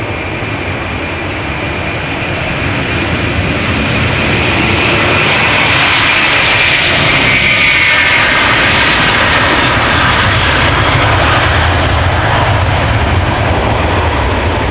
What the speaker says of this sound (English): Delta Airlines Flight 179 going home to Jerry in Portland, Oregon. A330-300, 17 years old, first flight December 2006.